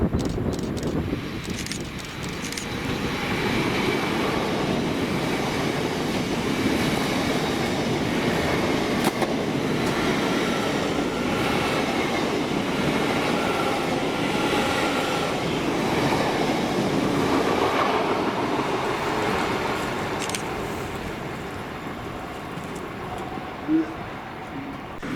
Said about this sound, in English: the 1706 London North Eastern Railway service to Inverness from London King's Cross with 800